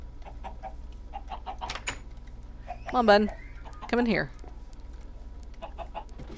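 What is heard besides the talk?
chickens clucking in Minecraft video game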